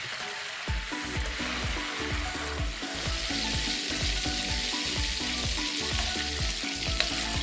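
Butter boils down into homemade village ghee in a pot, a dense crackling froth of rapid popping bubbles over a continuous hiss, loud and close with no voices.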